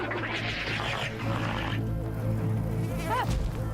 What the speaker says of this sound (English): That is a wasp.